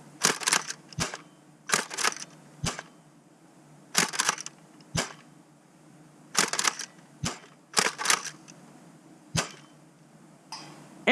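A Nerf Ultra One blaster firing darts at a target: a series of sharp, close snapping shots with brief mechanical clatter, spaced irregularly about once a second or two, over a low steady background hum.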